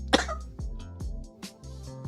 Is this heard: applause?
no